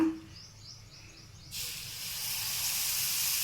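Millet dosa batter poured onto a hot, oiled pan bursts into a steady, bright hiss that starts suddenly and holds loud and close, preceded by a brief quiet tone.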